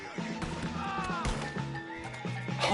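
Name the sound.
horse neighing in video game Red Dead Redemption 2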